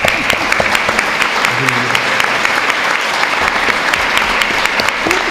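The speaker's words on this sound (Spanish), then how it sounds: "Vamos a agradecer a Aurora con un aplauso." Warm applause from an audience at a literary tribute event thanking a pianist named Aurora; dense, steady clapping from a full room, loud and continuous with a few crisp individual claps standing out.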